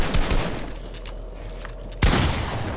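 Sharp gunshot bursts in the battle royale game Fortnite, a couple of loud blasts near the start and another heavy shot near the end, with no talk.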